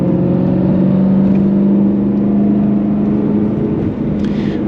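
A BMW E92 M3 built to spec with solid subframe bushings and aggressive front camber drives along, its engine giving a steady loud mid-pitched drone and whir throughout with no talking.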